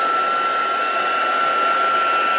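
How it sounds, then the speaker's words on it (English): An embossing heat tool blows steadily and loudly for stamping, a continuous even whoosh with a constant whine and no pauses. "Turn your heat tool off"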